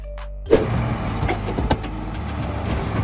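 Rear loader garbage truck with a rear compactor, heard close by: a sudden mechanical thump is followed by steady engine rumble with scattered clanks and hiss, running continuously without voices.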